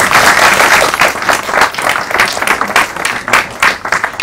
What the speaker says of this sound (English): you need a big applause